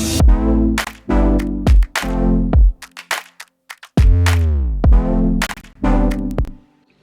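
A Vital wavetable synth preset named Juno plays a sequence of bright, harmonically rich notes with sharp attacks and filter sweeps, loud and alone with no talking.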